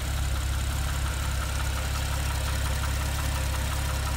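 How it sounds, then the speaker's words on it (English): A 2009 Porsche 911 Carrera with its engine in the back idles steadily and close by, a deep continuous rumble with a fine rapid pulse running unbroken throughout, no voices over it. "No hesitations, no ticking sounds, just a good old Porsche engine."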